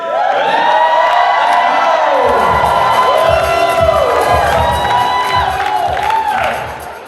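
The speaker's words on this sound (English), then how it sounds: "If we can get you guys to hype the crowd up a little bit." Guests at a wedding reception at We-Ko-Pa Casino Resort cheer, whoop and shout loudly as a sustained crowd roar, with rising excited voices and a few whistles throughout.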